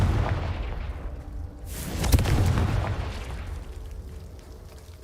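A Confringo blasting spell explodes in Hogwarts Legacy: a loud, close boom with a sharp crack at its peak and a rumbling tail, set over steady game ambience.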